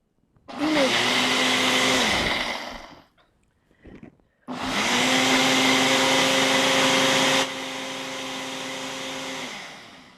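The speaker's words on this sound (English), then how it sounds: "I did this in the Vitamix before, so let's see" A Vitamix blender grinds unsoaked dates in two loud, steady bursts, the first about two seconds and the second longer, with the motor pitch settling and then dropping to a quieter whir near the end.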